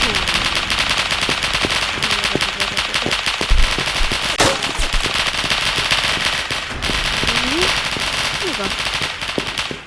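Rapid bursts of automatic gunfire and scattered single shots from The Lost Front video game, sharp and dense with steady background battle noise and a few louder cracks, under a faint voice.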